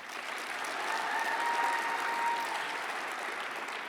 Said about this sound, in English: Join us in applauding these young athletes